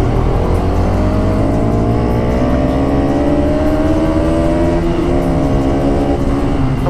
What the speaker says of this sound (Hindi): हो भाई क्या दौड़ रही है बाइक